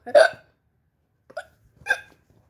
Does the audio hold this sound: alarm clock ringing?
no